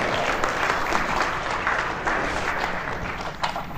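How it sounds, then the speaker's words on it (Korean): Audience applause at a CEO forum golf lecture, a steady wash of many hands clapping at moderate level for a few seconds with no talk over it. "왜 박수 안 치세요?"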